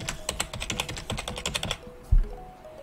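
Rapid, irregular key clicks from typing on a computer keyboard while filling in an online account form, close and fairly quiet, followed by a short pause and a single dull thump near the end.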